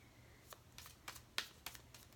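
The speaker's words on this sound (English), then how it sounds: "some people might be bored by watching me shuffle" Tarot cards are shuffled by hand, a series of soft papery riffles and taps spaced irregularly, faint and close with no voices.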